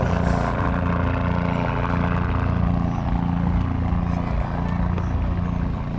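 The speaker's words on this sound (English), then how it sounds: "Helicopter coming in. He's going to make a flyby" A helicopter flies low over a small-town parade, its engine and rotor a steady, loud droning rumble that holds throughout, with a faint voice now and then.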